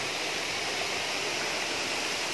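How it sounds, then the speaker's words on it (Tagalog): Strong water crashes over rocks at a waterfall, a dense, loud, continuous roar filling the whole moment without letup and with no voices. "ang lakas ng tubig"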